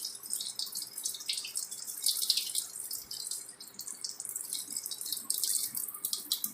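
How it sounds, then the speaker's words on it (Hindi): Tap water runs steadily into a sink during surgical handwashing, a continuous close hiss with faint splashing and dripping, no voices. "फिर हाथ धो लेंगे।"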